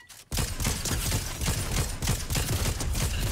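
Rapid bursts of gunfire crackle after a short silence, fast repeated shots continuing loudly and steadily like automatic weapons in Fortnite.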